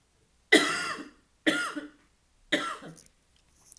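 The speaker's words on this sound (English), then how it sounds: "I've got such a tickly cough." A person gives three separate tickly coughs, each a sharp burst with a short raspy tail, spaced about a second apart, close and fairly loud with quiet gaps between.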